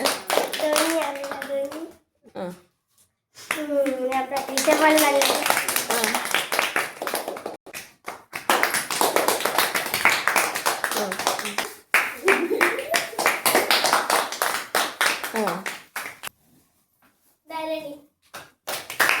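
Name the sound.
people clapping hands at a Christmas celebration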